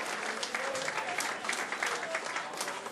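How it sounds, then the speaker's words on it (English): Audience clapping at an end-of-season club presentation, a steady even wash of many hands close by, with no voices over it. "let's give a round of applause to George as well"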